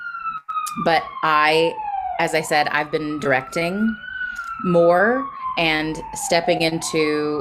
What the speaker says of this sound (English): Apologies for the siren that's happening outside of my door right now.